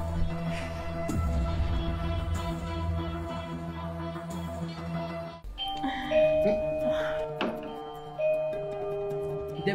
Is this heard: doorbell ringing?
yes